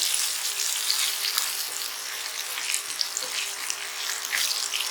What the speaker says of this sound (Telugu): బాగా ఫ్రై అయింది కదా తాలింపు గింజలు.